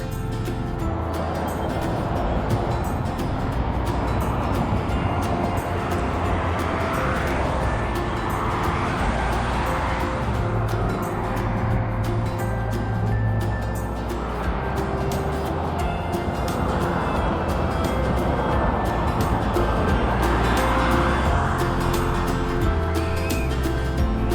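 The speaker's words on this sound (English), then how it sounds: "A lot of traffic today" Road traffic keeps passing beside a wide sidewalk on the Outer Banks of North Carolina, a continuous rushing roar that swells and fades as vehicles go by, heard from close range for over twenty seconds.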